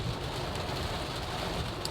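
Heavy rain heard from inside a car driving slowly on a freeway, a dense, steady wash of noise that stays constant and close for a couple of seconds with no talk.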